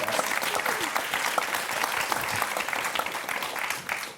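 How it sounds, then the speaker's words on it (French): Television game show studio audience applauding contestants, a continuous wash of many hands clapping at steady volume, tapering slightly at the end, with faint voices underneath. "applaudissements pour Antonin et Rebecca"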